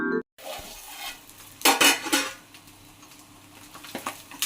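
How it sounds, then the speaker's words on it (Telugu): Goat intestines (boti) deep frying in oil for a Telangana-style boti fry, a steady sizzle with bursts of stirring and utensil scrapes around the middle, close and moderately loud, no talking. "మంచిగా డీప్ ఫ్రై చేసుకోవాలి"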